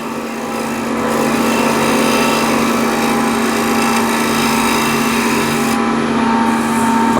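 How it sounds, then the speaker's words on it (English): A bowl scraper lightly scraping wood on a spinning lathe, a loud continuous whirring hum with a fine rubbing hiss, steady and close throughout, with no talk. "Bowl scraper, and just lightly"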